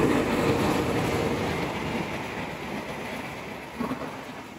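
A train rolls through Delanggu station on Java, a loud, close rumble that slowly fades a little, with a brief clank near the end and no talk.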